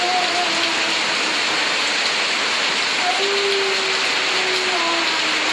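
Heavy rain pours steadily at a house construction site, a loud dense hiss of drops on surfaces throughout, with faint high thin tones drifting faintly through the downpour.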